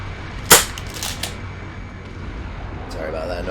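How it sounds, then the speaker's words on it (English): A sharp pop from someone opening a drink, with a brief fizzy hiss, loud and close, followed by a couple of smaller clicks over faint game sounds, then quiet background. "Sorry about that noise, that's just me opening my drink."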